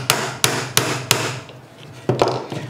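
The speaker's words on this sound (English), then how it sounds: "so we're going to have to use our hammer again" A hammer drives a roll pin punch while a Timney Alpha trigger is installed in a Palmetto State Armory Dagger pistol. There are four sharp metallic strikes at an even pace, a short pause, then one more blow, close and with no voices.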